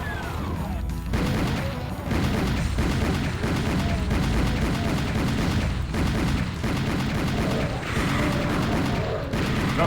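Dual pistols fire in Doom, loud, continuous, overlapping shots with crashing, booming game sounds and no clear pauses.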